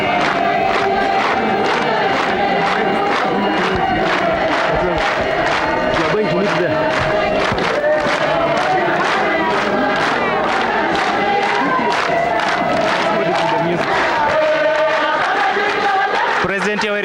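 A large crowd chants and cheers loudly and continuously while welcoming President Yoweri Museveni, rhythmic massed voices and shouts filling the whole scene up close.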